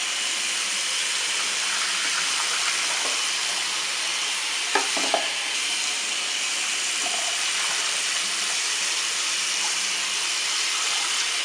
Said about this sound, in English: I'm going to dump out this dirty, murky water and start with some fresh water